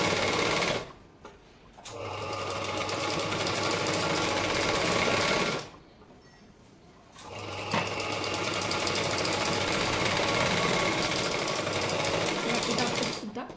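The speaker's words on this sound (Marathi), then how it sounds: "आता आपण परत एकदा याला दाब टीप देऊन घेणार आहोत बघा" Sewing machine stitching blouse fabric, running in two long bursts with brief pauses between them, loud and close with a steady mechanical whir.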